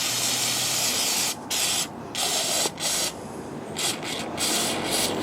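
Aerosol brake cleaner sprays onto a valve on a Ford Fiesta EcoBoost with a no-boost fault: loud hissing bursts repeatedly broken by brief pauses.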